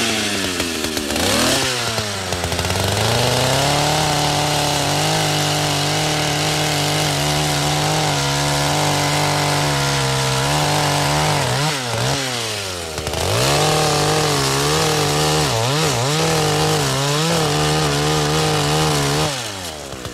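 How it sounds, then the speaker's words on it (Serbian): A fuelled and chain-oiled chainsaw cuts through a standing tree, its engine loud and close, holding a high whine with repeated revs and dips in pitch for about twenty seconds, with no talking. "testeru smo pripremili, sipali gorivo i ulje za podmazivanje lanca"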